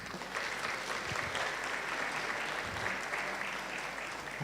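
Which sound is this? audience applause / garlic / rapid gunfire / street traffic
audience applause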